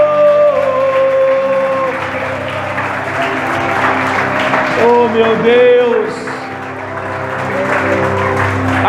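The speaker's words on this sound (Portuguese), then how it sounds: "Aplauda ao Senhor." A church congregation applauds the Lord during a worship service, the clapping mixed with sustained music and a voice speaking over it.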